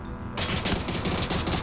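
Rapid video-game gunfire erupts abruptly after a quiet moment, a dense, loud burst of repeated shots continuing to the end.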